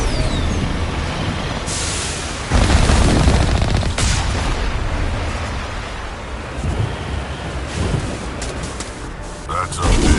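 Heavy artillery gunfire booms in the Mass Effect Legendary Edition game on PlayStation 4, a dense, loud wash of blasts and rumbling explosions with sharp bursts near 2.5 and 4 seconds over constant battle noise.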